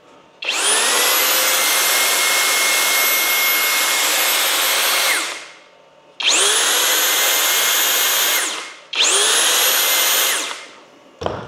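Flex compact right angle drill, battery powered, running in turbo mode: three bursts of high-pitched motor whine, a long run then two shorter ones, each spinning up sharply and winding down, loud and close with no talking.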